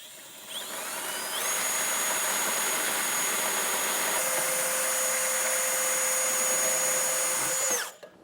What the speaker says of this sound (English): So I'm using a burr bit. I'm just going to kind of slot it so that we can fit our hardware through it.